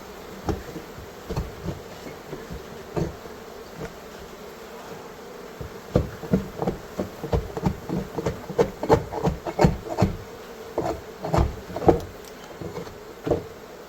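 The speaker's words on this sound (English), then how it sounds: "so the bees are starting to make honey" Honey bees buzz densely around a large beehive in a steady close hum. Sharp knocks and rubbing taps punctuate the buzzing, growing busier midway. No one speaks.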